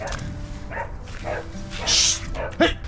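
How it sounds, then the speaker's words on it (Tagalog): Several dogs bark and yip at a distance, with a short burst of barking and a whimper, while a person talks nearby. "sino ba tinatahulan ng mga aso"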